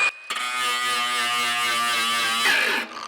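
Cordless grinder whirring at high speed against a car body panel during bodywork on a VL Commodore, a steady loud buzzing whine that starts abruptly and runs for under three seconds before cutting off.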